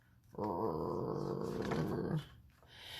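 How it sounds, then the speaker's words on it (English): A single animal growl, a low rumbling snarl lasting about two seconds, close and fairly loud, with no talk over it. "Waddles started to growl."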